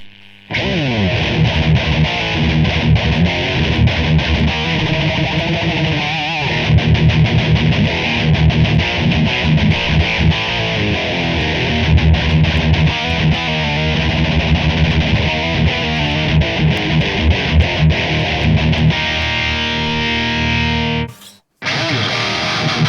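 Loud, heavily distorted metal electric guitar through a Line 6 Pocket POD Express chugs and riffs steadily for about twenty seconds, then stops abruptly with a brief pause before one final burst.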